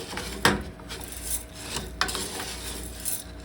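Cashews are stirred in an oily pan for orzo cashew chicken, a utensil scraping and rasping across the pan bottom in a few irregular strokes, with louder scrapes standing out against a low sizzle.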